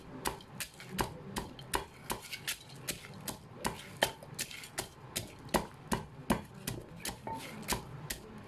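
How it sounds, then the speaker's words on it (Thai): Dried fish meat pounded in a stone mortar for Thai fish chili paste, a steady series of sharp, close thuds at a brisk, regular pace, about two per second, with no talking. "นี่ค่ะเนื้อปลาหนูก็จะตำประมาณนี้ค่ะ"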